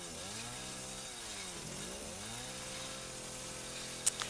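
A chainsaw in Resident Evil 7 drones steadily, its pitch dipping and rising as the engine bogs and revs, continuous and moderately loud with a brief sharp click near the end.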